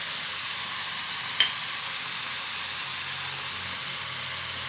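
Garlic fries steadily in a pan with seasoning granules added, giving a continuous close sizzle with one brief light tick partway through.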